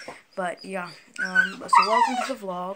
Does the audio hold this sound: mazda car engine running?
no